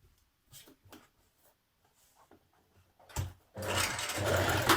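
Sewing machine stitching the inner leg seam of wide-leg trousers: light handling taps and clicks, then the motor kicks in with a loud, continuous close whir.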